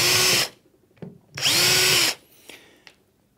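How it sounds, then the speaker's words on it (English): A power drill boring pilot holes into a wall unit leg boss, two loud whirring bursts of about half a second each, the second longer, followed by faint clicks and handling noise. "Taking your drill, drill 3 pilot holes."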